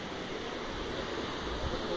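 Water of the Caracol Park waterfall in Canela, RS, pouring steadily as a broad continuous rushing roar with no breaks, fairly even in loudness throughout.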